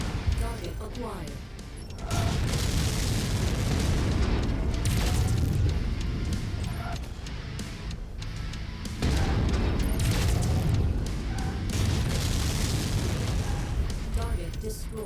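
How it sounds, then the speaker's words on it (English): Booming explosions roll through a battle in the mech combat game MechWarrior 5: Mercenaries, two long, dense blasts of rumbling noise with crackling debris, loud and continuous, under brief voices. "We blew it up."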